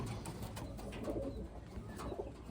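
A checkered hen pigeon cooing close by, soft low throaty coos repeating in short bursts over a faint background rustle.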